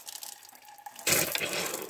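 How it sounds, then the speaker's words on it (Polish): Water gushes from a lever-operated hand pump, its splash starting suddenly after a quiet dripping trickle and continuing as a loud steady pour close by. "I można napompować tej wody."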